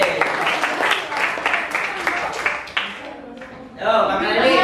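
Schoolchildren in an Indonesian classroom clap together in a rhythmic, patterned burst of hand claps, loud and close, which gives way to excited voices and chatter near the end.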